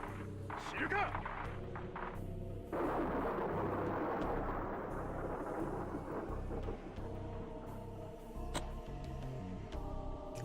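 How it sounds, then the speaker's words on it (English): Explosions rumble in the visual novel Steins;Gate 0 during a wartime news broadcast scene, a deep booming roar swelling after a few seconds and lingering, with a sharp crack later and music or voices underneath. "Just after that, I heard another explosion, and the video was cut off."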